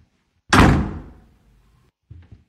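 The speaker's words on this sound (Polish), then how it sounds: "To tylko drzwi. Nie muszę się go bać." Door in the video game Hotel Remorse, closing with a single loud, close slam that rings out and fades, followed by a couple of softer knocking thuds.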